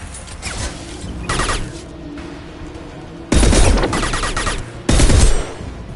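Rifle gunfire in the video game Mass Effect 2 rings out as loud, sharp bursts of shots, with quieter mechanical clatter and combat noise between the volleys.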